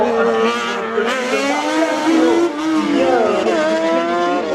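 Rally slalom race cars run a track, their engines rising and falling in pitch as they pass, with an announcer talking over them throughout.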